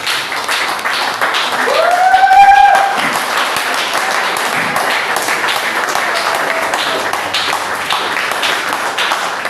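A church congregation applauds and cheers loudly for the Lord, a dense wash of clapping and voices that rises briefly with a whistle-like shout, then continues steadily throughout.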